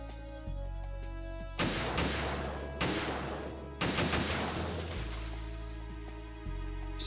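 Gunfire in Metal Gear Solid 2, several loud, sharp bursts of automatic fire with echoing tails over a humming game background.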